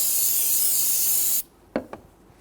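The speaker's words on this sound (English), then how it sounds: "With a rag and some solvent, clean the top." An aerosol of solvent sprays in a loud continuous hiss onto a 2007-2014 Cadillac Escalade brake fluid reservoir top, then stops abruptly, followed by two quick rag wipes, close up.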